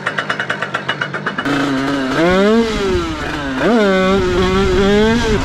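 A Beta RR 2019 motorcycle fitted with an 80cc kit on an AM6 engine sputters in a rapid pulsing idle, then rises into loud, close revving with repeated climbing and falling engine pitch.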